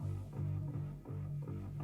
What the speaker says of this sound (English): I run my bass tracks through this Yamaha SPX 90 right here, through a certain chorus preset